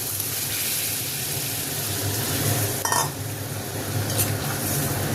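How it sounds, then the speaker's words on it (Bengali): Broken potato pieces fry in a pan with a constant, close sizzle and low bubbling hum, broken by one brief clink of a utensil against the pan partway through, with no voices. "আলুটা একটু ভাজা ভাজা হয়ে গেছে"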